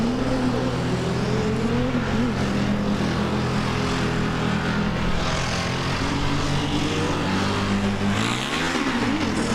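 A Formula Student race car circles the skid pad, its engine droning loudly and steadily with shifting pitch, then rising in a sharp revving sweep near the end.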